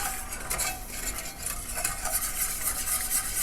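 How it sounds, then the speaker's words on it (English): A whisk stirring a thickening cheese dipping sauce in a pot, a steady close scraping and swishing with a faint sizzle underneath, continuous for a few seconds with no voices. "I'm going to continue to whisk this until it thickens up"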